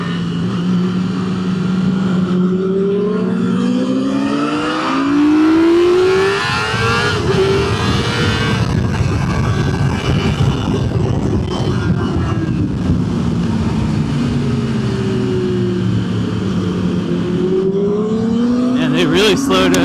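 Race car on track during a Sonoma track day session, engine rising and falling in pitch through shifts and corners, loud and continuous with wind noise and a person talking over it.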